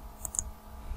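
Two quick, faint computer mouse clicks close together, followed by a softer third click, in a quiet room.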